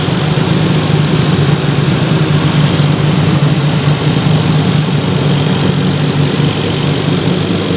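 A Toyota JZ-engined car with a Rocket Bunny body kit idling at the Daikoku Parking car meet, a loud, steady low rumble that stays even throughout with a constant drone beneath it.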